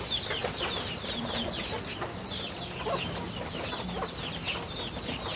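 Chickens cluck and chatter in a backyard flock, with soft, repeated calls close by over a constant outdoor background and no talking.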